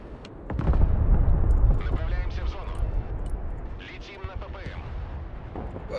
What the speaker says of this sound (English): No, it was a regular cruise missile.